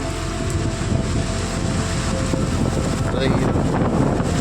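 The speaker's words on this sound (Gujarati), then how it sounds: "પવન ફૂલ આવે એટલે તમને મારો થોડોક ઓછો સંભળાતો હોય છે" Loud, constant monsoon wind buffeting the microphone, a dense low rumble filling the whole stretch without letup.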